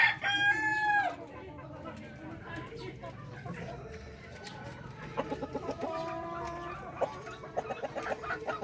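A rooster crows at the start, followed by repeated clucking from chickens kept in breeder coops, fairly close and moderately loud, with a steady background hum underneath.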